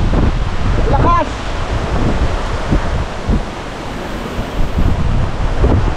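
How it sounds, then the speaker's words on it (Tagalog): Strong wind buffets the microphone with a loud, continuous roar and rustle during an outdoor clearing job at a hut-building site in rain, while a voice briefly calls out. "Ang lakas ng hangin."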